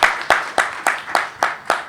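An audience welcoming a guest speaker to a talk on BRICS countries claps in a quick, even rhythm of about seven sharp, distinct claps, close and alone with no talking.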